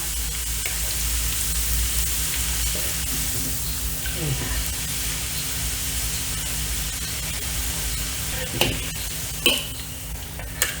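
Marinated pork fries on high heat in a pan of oil with a loud, steady sizzle and hiss that fills the scene, broken near the end by a few sharp clinks and scrapes of a utensil.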